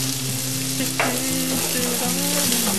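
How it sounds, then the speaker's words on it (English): Carrots and other vegetables are stir-fried in a hot pan, giving a steady sizzle with a brief stirring scrape about midway, over a faint tonal background hum. "Kind of stir frying this"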